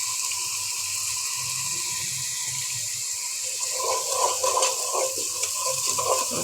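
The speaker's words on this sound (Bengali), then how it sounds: "পেঁয়াজটা হালকা আর একটু ভাজা দেবো।" Onion frying lightly in a pan for a chicken and bottle gourd curry gives a steady, close sizzling hiss throughout, with louder stirring and scraping from about the midpoint on.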